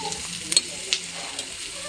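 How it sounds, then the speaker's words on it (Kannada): A spoon stirs mashed potatoes in a hot pan for potato palya, with soft scraping and a faint sizzle and a couple of sharp clinks of utensil against the pan. "ಇದನ್ನು ಮಿಕ್ಸ್ ಮಾಡೋಣ."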